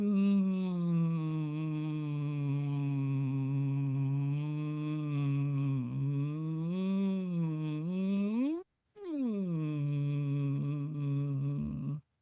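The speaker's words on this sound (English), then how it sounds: "I want you to hum in a tone that is just comfortable for you" A steady, sustained hum held at a comfortable pitch, gliding gently up and down, with one brief pause for breath before it resumes.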